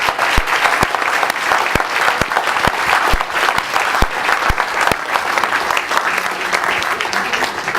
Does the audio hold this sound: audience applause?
yes